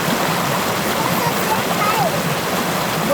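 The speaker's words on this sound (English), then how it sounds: "we have a waterfall right here" A waterfall beside a camp spot in the Pyrenees rushes in a loud, steady white roar, close and unbroken throughout.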